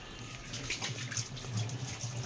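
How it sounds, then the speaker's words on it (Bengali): Water running from a kitchen tap into a basin while fish is set to be washed, a faint, steady splashing rush that continues throughout with no talk. "কলে কলে জল পড়ছে কিনা আগে দেখো"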